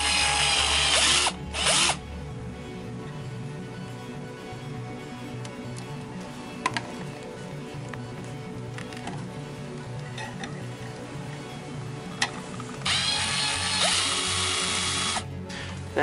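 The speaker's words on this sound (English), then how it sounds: "So I'm gonna go ahead and make a bigger hole so this can go through" Power drill enlarging a hole in a plastic cup holder from a Ford F150, heard close in two loud whirring bursts at the start and end, with quieter handling clatter and clicks between.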